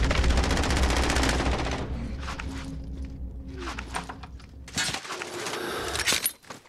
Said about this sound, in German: Oh man, schießen direkt, wenn ich schieße.